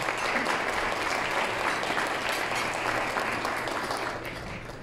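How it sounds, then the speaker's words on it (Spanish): Audience applause for a sponsor at an awards ceremony, a full, even wash of many hands clapping that holds steady for several seconds and then begins to fade, with no speech. "Un aplauso para NISA, por favor."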